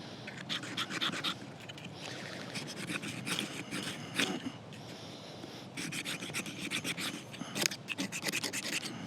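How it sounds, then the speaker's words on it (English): The spine of a Helle Bleja folding knife scrapes along a ferro cerium rod in quick rasping strokes, close and fairly quiet, coming in bursts with short pauses between them. "How well this thing will scrape a ferrule cerium rod."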